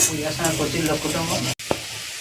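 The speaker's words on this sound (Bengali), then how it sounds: "আর এখানে আলু ভাজা হচ্ছে" Potatoes frying in a pan on a clay stove give a soft, steady sizzle beneath a voice talking for the first part, then a short dropout and a single knock.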